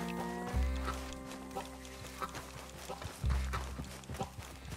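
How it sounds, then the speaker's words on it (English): Rhythmic clip-clop of horse hooves at a steady gait in Red Dead Redemption 2, over a sustained musical drone, with a couple of heavy low thumps. "I'm gonna ride my horse to him."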